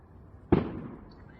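A single firework bursts with a sharp pop on bonfire night, close and fairly loud against a quiet outdoor background, its crackle fading over about half a second.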